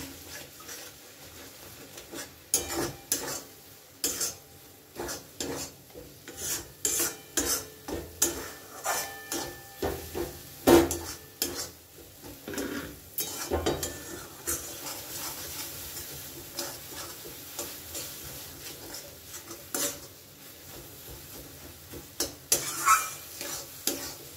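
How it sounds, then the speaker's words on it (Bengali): Mashed roasted eggplant being mixed with spices in a pan for begun bharta, heard as repeated uneven scraping and pressing strokes of a spatula over a soft sizzle, fairly close, with no talking. "এবারে এটাকে খুব ভালো করে মশলার সাথে আমি মিশিয়ে নেব"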